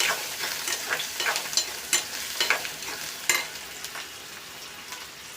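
Onion and garlic sautéing in hot oil for a cowpea dish, a soft continuous sizzle with repeated scraping stirs of a spoon, close and fairly quiet, with no voices.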